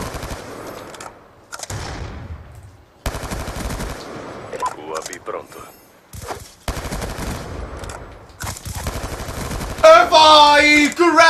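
Automatic fire in Black Ops 2 comes in several separate bursts broken by short silences, loud and close, with a louder, harsher stretch near the end.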